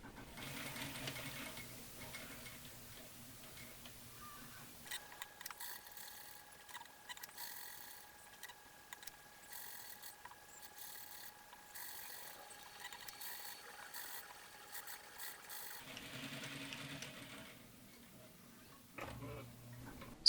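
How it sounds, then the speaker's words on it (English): Sewing machine stitching a costume sleeve to the body of a medieval monk robe, running in a steady fast mechanical whir for about ten seconds, with quieter handling noise before and after. "Sew the sleeve to the body with 5/8 inch seam allowance."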